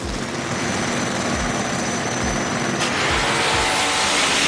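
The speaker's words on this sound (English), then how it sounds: "a Pro Stock Camaro, taking on Nitro Z in the little Honda with the turbo" Drag race between a Pro Stock Camaro and a small turbocharged Honda: a loud, steady engine roar with repeated low rising sweeps as the cars accelerate, growing brighter and harsher near the end, with no talk.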